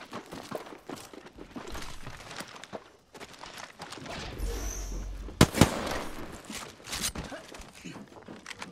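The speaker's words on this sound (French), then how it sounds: "J'envoie une grenade thermique." A thermite grenade is thrown during an Apex Legends match, giving a hissing whoosh and then a sharp, bright burst amid scattered game gunfire and thumps, with voices talking over it.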